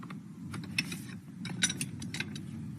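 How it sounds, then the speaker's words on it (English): A Storz hose cap being opened while its safety clip is pushed gives quiet, close mechanical clicks and ratcheting scrapes over a low background hum. "You have the safety clip which you have to push while you're opening the cap."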